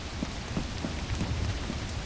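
Rain pours in the video game Lethal Company, a steady, fairly loud hiss of falling water with soft patters, continuous and alone with no clear thunderclap.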